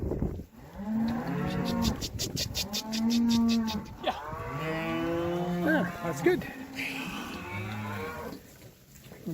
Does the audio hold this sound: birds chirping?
no